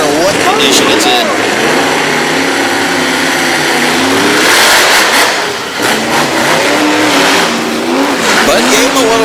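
A roaring monster truck engine revs hard and loud at a race in Brookville, Pennsylvania, with rising and falling pitch sweeps as it accelerates, under an announcer's voice talking over it.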